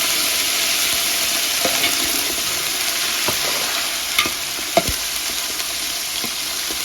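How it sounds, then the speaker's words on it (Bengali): Garlic paste and ginger paste are stirred into hot oil for a mutton curry, giving a steady close sizzle with occasional scrapes and taps of the spoon against the pan. "এখন দিব রসুন বাটা, সাথে দিয়ে দিব আদা বাটা। সবকিছু ভালোভাবে তেলের সাথে মিশিয়ে নিব।"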